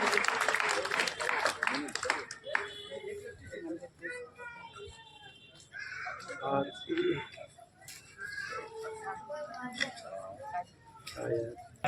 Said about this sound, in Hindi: जोरदार तालियां बजाकर आप स्नेह प्रभा जी का अभिनंदन।